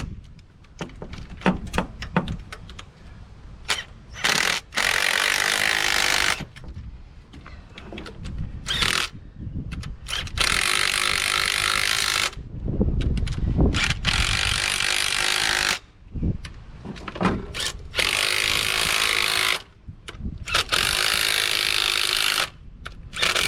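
A hand ratchet snugging bolts on a Chevy small-block engine being assembled for an OBS Blazer, heard as bursts of quick clicking broken by short pauses, close and fairly loud with no talk.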